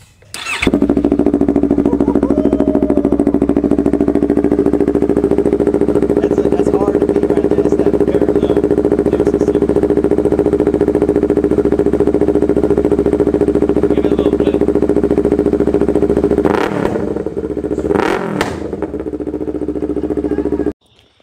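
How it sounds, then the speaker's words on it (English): A motorcycle fitted with an underglow light kit idles in neutral close by, its engine holding a loud, steady drone for around fifteen seconds before a couple of blips and the sound cutting out. "Wait, y'all hear the way this bike sounds."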